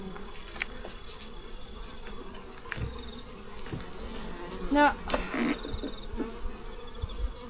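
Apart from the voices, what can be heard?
honey bee colony buzzing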